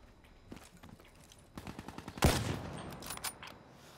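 Sniper and automatic gunfire in the video game Call of Duty: Black Ops 3, with a burst of rapid shots, one loud blast near the middle and more scattered shots after.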